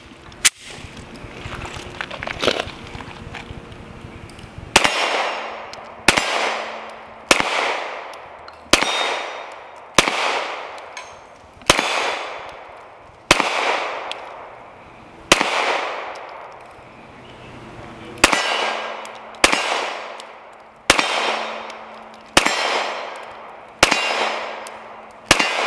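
Loud, sharp pistol shots from an HK VP9 9mm with a gray frame firing full metal jacket ball rounds into a rolled-up carpet, about sixteen evenly spaced reports with ringing decay, preceded by a few seconds of quieter handling noise.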